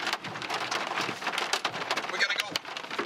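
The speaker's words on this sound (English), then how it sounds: "Oop, there's the hail." Hail and rain pelting down during a storm in northwest Kansas, dense irregular patter of impacts near at hand, with brief excited voices over it.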